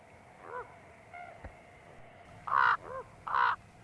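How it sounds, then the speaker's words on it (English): A raven in grizzly country at Yellowstone National Park calls with hoarse, croaking caws, a few softer calls at first, then two loud, close croaks near the end over a quiet outdoor background. "A splash sends a raven on his way."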